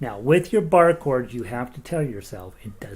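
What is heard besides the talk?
None of the usual background noises is heard.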